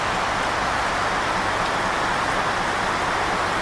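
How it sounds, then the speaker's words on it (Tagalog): Heavy rain pours down in a dense, unbroken hiss during a storm where cattle are kept, staying loud and even throughout, with no voices. "grabing lakas ng ulan"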